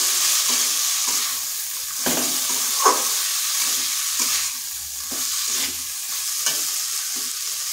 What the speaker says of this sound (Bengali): এই মশলার সাথে ভালো করে এগুলোকে কষিয়ে নিতে হবে